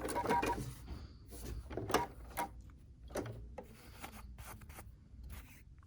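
Scissors trim loose thread ends from a hand-stitched fabric wishing-tree ornament: a handful of crisp, close snips and rubbing handling noises, with no voices.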